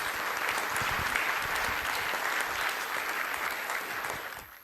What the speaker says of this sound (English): if you like to applaud for them.